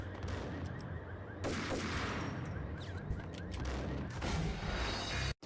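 Enemy shotguns blast in Max Payne, a run of loud, dense gunfire bursts with heavy booms and rattling echoes, nearly continuous, under faint game ambience.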